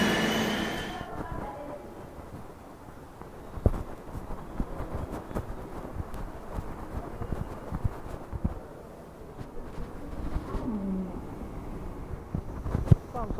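A Mumbai local train rumbles steadily along the tracks, with wheel clatter and occasional metallic squeals, loud and continuous throughout.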